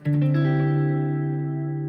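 A single guitar chord with the ninth at the bottom is struck and left ringing, washed in shimmering effects and reverb as it slowly fades.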